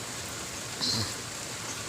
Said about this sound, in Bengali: এই তো বৃষ্টি পড়ছে আমাদের এদিকে